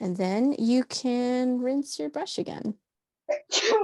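A single sharp sneeze breaks in after a woman's speech about rinsing a paintbrush during an online art class, followed by a short pause and more talk.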